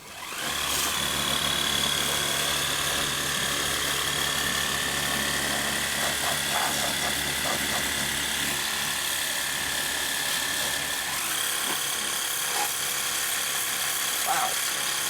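A Worx Powershot electric pressure washer set to 15 sprays a muddy lawn mower, giving a steady, loud whining motor hiss that runs unbroken for most of the stretch before easing near the end.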